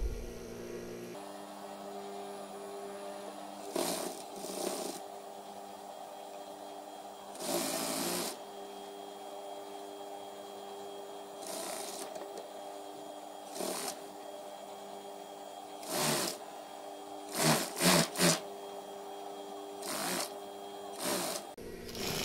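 A sewing machine joins the side seams of a baju koko, with a low, quiet running hum broken by short, sharp clicks and handling noises scattered through the stretch.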